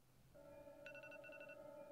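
A phone-like electronic ring plays steadily with a warbling trill pulsing over it, fairly faint and continuous, with no talking.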